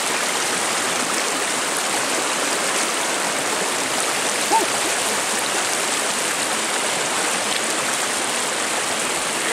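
A cold stream flows in a steady, close, full rush of water, an even broadband hiss that continues unbroken with no voices.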